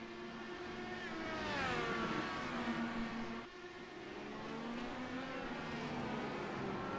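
IndyCar race cars in iRacing at Twin Ring Motegi whine past, engine pitch climbing and falling in sweeping waves as cars pass, with a brief dip midway.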